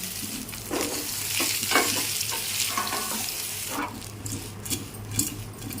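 Mustard seeds, dried red chillies and curry leaves are tempered in hot oil, with steady sizzling and frying, crackling pops and scraping stirs over several seconds, close and fairly loud.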